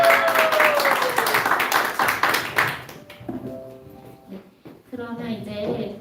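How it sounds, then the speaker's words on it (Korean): Youth group members at a church service break into a burst of clapping that fades after a few seconds, followed by a person speaking in a hall. "박수 한번"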